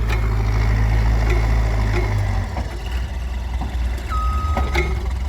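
A heavy digging machine working ground on a farm to excavate for a loading dock foundation; a loud low engine drone dominates, then eases off partway through, with scattered knocks and a short high tonal beep near the end.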